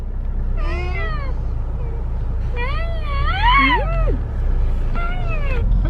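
A cat meows several times in separate bursts, clear and fairly close, over a steady low background hum, with one long wavering meow in the middle.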